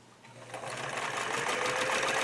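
A sewing machine set to 12 stitches per inch with a quarter-inch foot runs steadily, stitching scalloped binding onto a quilt, its close buzzing motor rising slightly and holding an even pace.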